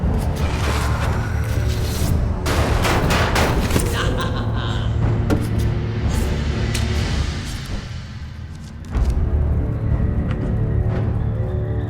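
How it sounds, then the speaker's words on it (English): Rifle fire in the Hand of Fate video game: a volley of sharp, loud shots, some in quick bursts, over a droning game backdrop, with a brief lull before the firing resumes. "Shots from rifles cannot be deflected."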